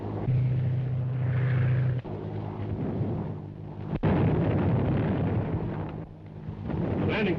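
Tear gas bombs dropped from a low-flying aircraft burst in a series of heavy booms, including a sharp blast, over a steady droning engine hum in an old-fashioned film soundtrack.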